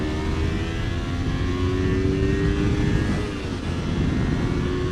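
A 2006 Kawasaki Ninja 250 motorcycle engine drones loudly and steadily up close, its pitch shifting as it is downshifted while riding.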